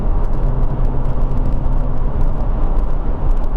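Jaguar F-Type V6 exhaust in a tunnel in North Wales, a loud, deep, continuous engine roar with rumbling low end and echoing reverberation, no voices.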